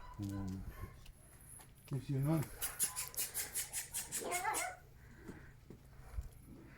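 A tied-up dog howls and whimpers from a distance in a faint series of wavering, rhythmic cries, with someone talking quietly nearby.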